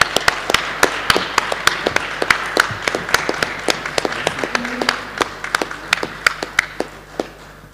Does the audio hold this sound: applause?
yes